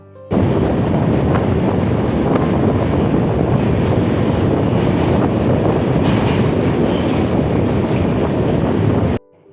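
A train rumbles loudly and continuously over a bridge, wheels clattering with heavy wind buffeting, sustained throughout before ending abruptly.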